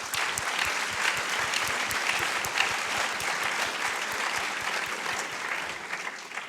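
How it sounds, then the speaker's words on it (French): An audience at a film premiere at the Cinémathèque suisse gives steady, dense applause that stays loud and unbroken throughout, with no talk over it. "je vous demande de les applaudir"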